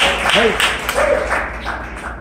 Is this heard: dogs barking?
no